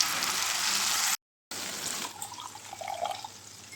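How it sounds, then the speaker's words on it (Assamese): Water is poured into spice paste in a pan while cooking meat, an Assamese home recipe. A steady hissing rush cuts off abruptly, followed by a softer, bubbling sizzle. "তাৰপৰাই পানী অলপ দি দিলোঁ"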